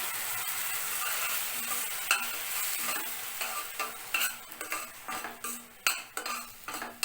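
Onions sauté in a pan with a soft background sizzle, and utensil clinks and stirring scrapes grow more frequent toward the end. The sound is fairly quiet and close, with no talking.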